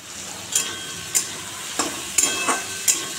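Stirring in a frying pan before gourd goes in, with sharp scraping strokes at irregular intervals, about five or six, over a low steady sizzle.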